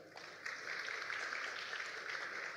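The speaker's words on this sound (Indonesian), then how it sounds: "Tepuk tangan bagi Allah kita." Congregation applauding during a sermon at a Pentecostal church in Surabaya: a brief, even burst of many hands clapping that starts abruptly and holds steady at moderate distance.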